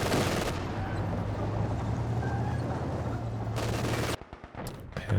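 Sustained machine gun fire rattles steadily in a competitive video game match, a continuous loud burst that cuts off abruptly near the end.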